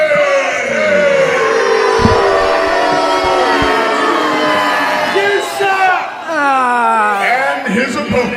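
Wrestling crowd at a live show loudly booing and jeering Dirty Andy Dalton, a dense sustained roar of whoops and wails with a ring announcer's voice carrying over it.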